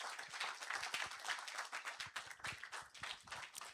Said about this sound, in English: let's be generous with our applause.